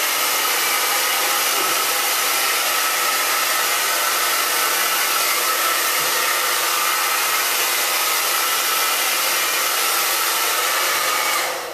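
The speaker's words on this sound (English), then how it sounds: "Then I go with my blow dryer, I hold it on my pre-sprayed hair for a second with the hot and with the cool" A hair dryer blows continuously and loudly up close onto pre-sprayed hair during a volume blow-dry, a steady broadband rushing whoosh that holds unchanged for the whole stretch before cutting off at the end.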